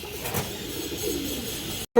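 A female pigeon coos softly in a couple of low, brief calls. A quiet voice talks in the background, and the sound cuts out abruptly near the end.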